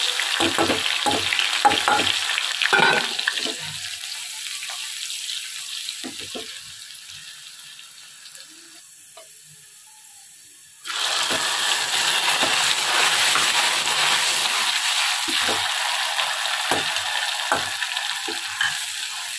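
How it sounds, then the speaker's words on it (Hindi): Onions and cumin sizzling in hot oil as a tadka for dal, with a pinch of asafoetida; steady frying hiss with stirring scrapes, dropping quieter midway before a loud burst of sizzle returns when more goes into the pan. "मैंने ऑयल गर्म कर लिया है और इसके अंदर अब जो है मैं थोड़ा सा ज़ीरा डालूंगी"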